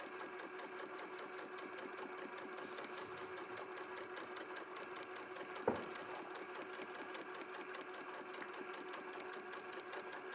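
Sewing machine stitching a quilt block, a fast steady mechanical whirr and rattle that runs continuously at low volume, broken by one sharp click partway through.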